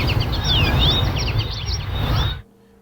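Birds chirping and twittering in Humboldt Park, a busy overlapping chorus of high calls over steady low outdoor rumble that cuts off abruptly near the end.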